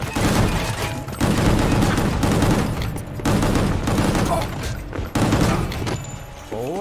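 GunGrave GORE video game gunfire rattles in dense, loud bursts split by short pauses, layered with booms and thuds of action-game combat.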